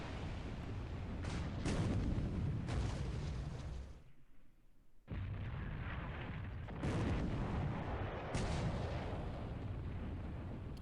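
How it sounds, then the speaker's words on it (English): Sustained rumbling naval gunfire and explosions from warships in a Pacific War naval battle video game, loud continuous booming with dense bursts, a brief lull midway, then renewed heavy firing. "They keep firing on the same ship."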